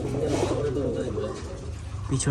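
Tumbler pigeons coo in low, rolling, repeated phrases close by at a pigeon sale, under someone talking.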